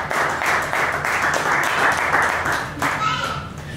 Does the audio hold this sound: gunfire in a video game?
no